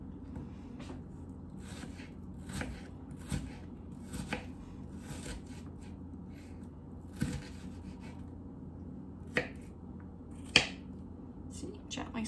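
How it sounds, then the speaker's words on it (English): A knife chops onions for guacamole on a cutting board, with soft, sparse taps spread across the stretch and a few sharper knocks near the end, quiet and close. "you do notice I gently slide the excess onions off of my knife"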